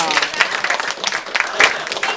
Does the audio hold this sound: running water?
no